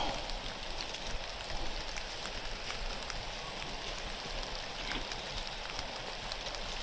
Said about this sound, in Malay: hujan dah